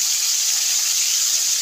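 Four pieces of Bhola fish fry in hot oil, producing a loud, even, hissing sizzle that holds steady throughout the short stretch with no voices.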